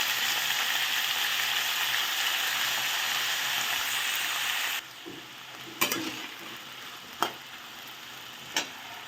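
Garlic tempering for cluster beans sizzles loudly and steadily in a pan for about five seconds, then drops to a quiet background with a few sharp clicks and taps from the pan or utensil.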